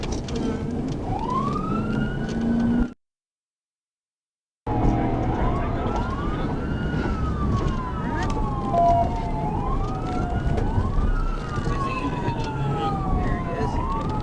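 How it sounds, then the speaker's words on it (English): A police car siren wails in repeated rising and falling sweeps during a pursuit on a highway, loud and continuous over engine and road roar, with a brief dropout partway through. "We're going to take siren."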